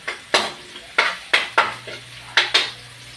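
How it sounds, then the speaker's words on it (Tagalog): Garlic and onion sautéing in a pan for chop suey, a soft sizzle broken by about seven sharp scrapes and clinks of a utensil against the pan at an uneven pace, close up and with no talking. "Nagigisa ako ng bawang at sibuyas."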